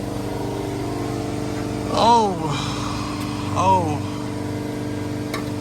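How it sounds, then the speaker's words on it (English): A loud air compressor runs continuously close by, a steady mechanical drone with a throbbing low-end hum. Two short surges rise over the drone, and a brief spoken exclamation is heard. "Sorry, the compressor's loud as hell."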